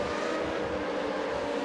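Formula 3.5 race cars in iRacing drone past in a continuous high-pitched engine whine, fairly faint and steady throughout, with no speech.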